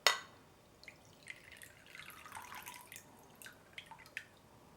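Soft trickling and dripping of water poured off soaked pork slices in small splashes, with a sharp clink at the start and scattered droplets landing, fairly quiet and close.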